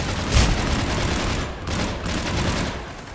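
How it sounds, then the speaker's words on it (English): Heavy, dense gunfire from Mass Effect 3 rattles continuously in a loud, sustained barrage, with a few sharper bursts standing out across the short stretch. "Under heavy fire."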